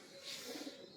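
A teddy pigeon gives a soft, low cooing phrase of a few pulses, faint and brief, over a steady hiss of background noise.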